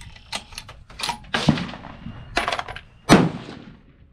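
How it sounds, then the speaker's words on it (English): A rifle being fired during barrel break-in gives several sharp, cracking reports at irregular intervals, each fading quickly, with no talking. "shooting this rifle was a lot of fun"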